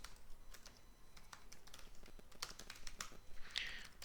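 Quick, light keystrokes on a computer keyboard while C code is entered, clicking in an irregular rhythm up close and growing busier toward the end.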